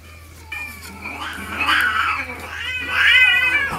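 A cat with a cast on its broken leg lets out drawn-out, wavering meows and caterwauls, rising and falling in loud pitch sweeps, close and alone with no talk.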